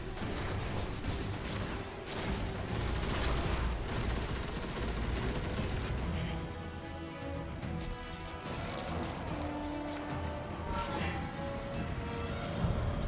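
Rapid video game gunfire with sniper shots among the bursts: dense crackling volleys and sharp cracks, loud at first and then thinning into scattered shots and mechanical clatter, with no clear talking.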